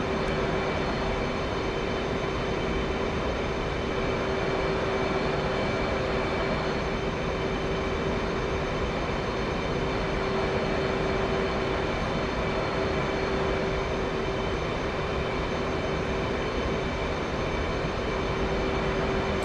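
An F/A-18C jet engine in the DCS World flight simulator drones steadily after throttle-up, a loud continuous roar with a sustained whine that holds constant throughout, no voices.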